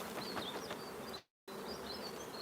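Honey bees buzzing around a nuc hive as foragers return, a soft, continuous hum of many insects nearby with a brief cut to silence partway through.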